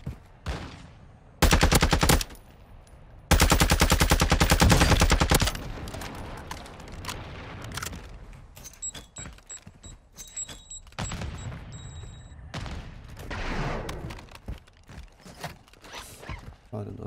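Bursts of rapid automatic gunfire target the player in Warzone 2 DMZ, two loud sustained volleys followed by scattered shots, thuds and clatter of combat.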